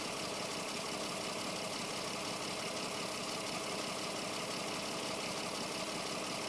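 An Audi Q7 engine idles in a steady, even drone with a constant mechanical hum and no revving throughout.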